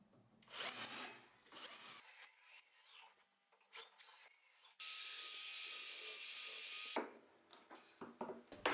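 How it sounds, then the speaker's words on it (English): Drilling holes into a wooden workbench piece, heard as short bursts of rasping bit noise against wood followed by a steady whirring run of the drill lasting a couple of seconds, with quieter scraping and handling sounds around it. "I also make some holes on the bottom of the piece to screw it on the bench top"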